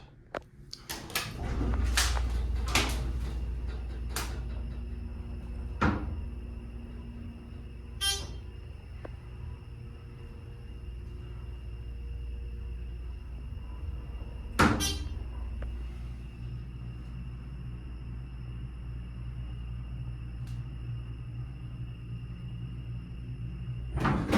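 A heavy metal door of a Dover Impulse hydraulic elevator in a department store slams shut with a loud bang, followed by a few sharper clanks and a steady mechanical hum.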